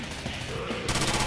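Dense gunfire aimed at a Tank in Left 4 Dead 2, a continuous noisy barrage of overlapping shots that grows louder and rattles quickly near the end, with no clear voices.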